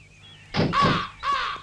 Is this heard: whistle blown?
no